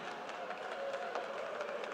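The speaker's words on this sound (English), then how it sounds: "Big round of applause for Robert Spence" Applause and cheering from a crowd at a strongman competition, a steady wash of clapping throughout the short stretch.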